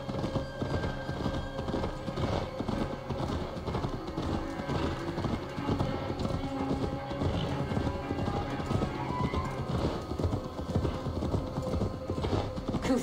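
Horse hooves clip-clop steadily at a riding pace in Assassin's Creed Valhalla, an even rhythmic clatter close by, continuing throughout over a faint background bed.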